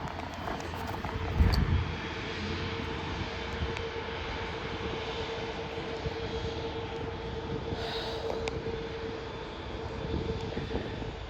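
An Etihad airliner's engines roar steadily at an airport, a broad continuous drone with a faint tonal whine, and a brief louder bump near the start.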